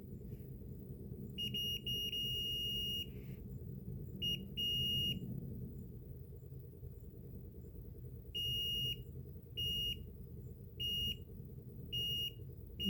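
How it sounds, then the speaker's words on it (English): Several short electronic beeps from a Bose 5-disc CD changer as its latch closes, clear tones at steady pitch, a long run and then a series of brief ones, over a continuous low mechanical hum. "when I put the latch down, it's beeping, so it's closing"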